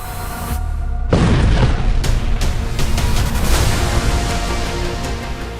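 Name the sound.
explosions in southern Lebanon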